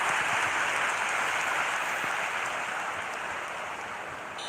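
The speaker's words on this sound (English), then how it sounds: "the crowd level has gone up a notch or 10" Simulated stadium crowd in an eFootball mobile match roaring after a goal, a broad, sustained wash of cheering that slowly fades.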